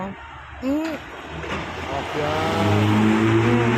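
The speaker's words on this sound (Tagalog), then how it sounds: "Narinig niyo naman yung ingay ng mga sasakyan." Busy road traffic rumbles nearby, with engines passing and a vehicle revving, while a person talks over the noise.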